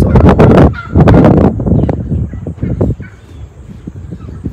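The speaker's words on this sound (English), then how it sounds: "So a gobbling turkey means he's a tom." A tom turkey gobbles loudly and close by in two rapid rattling bursts, followed by quieter trailing calls and softer gobbles fading over the rest of the moment, with no talking.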